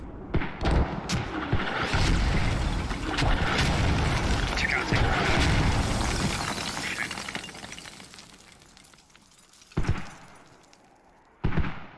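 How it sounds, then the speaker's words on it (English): Mortar rounds firing and impacting in a military simulation game, a dense stretch of booming blasts and crackling debris for several seconds, then two sharp isolated thumps near the end. "Firing them right into compound, as a matter of fact."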